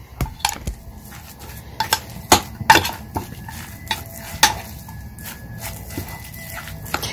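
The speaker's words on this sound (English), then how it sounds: "And let's get all this mixed up." Spoon stirring turkey burger mixture with oil in a bowl, a run of sharp clinks and scrapes against the bowl with softer mixing noise between, close and alone.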